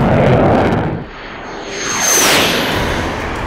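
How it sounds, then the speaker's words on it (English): A MiG-35 fighter jet roars through takeoff at a steep climb, a loud broadband engine blast that dips briefly, then swells again as the aircraft sweeps past with a rising whoosh. "MiG-35 is one of the few fighter jets that can take off at such an angle."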